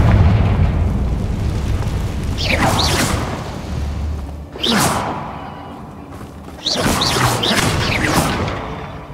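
Confringo blasting curse in Hogwarts Legacy, a series of loud fiery bursts with sweeping whooshes over a constant low rumble, three separate blasts spread across several seconds.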